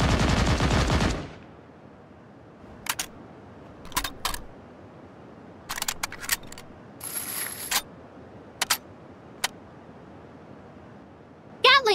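An M249 machine gun from the game Sausage Man is handled and fired, with a loud opening burst followed by scattered sharp clicks, bursts and mechanical rattles over a quiet background.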